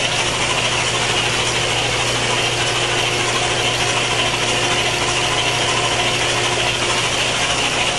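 An LS V8 built with roller rockers, a new timing chain and cam, and aftermarket cylinder heads runs on an engine test stand, a loud, continuous, even mechanical drone with a faint ticking texture throughout and no speech.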